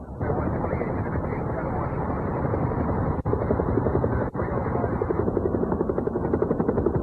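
A helicopter's rotor thumps steadily and loudly overhead in South Central Los Angeles, close by and continuous, with a couple of brief dropouts in the sound.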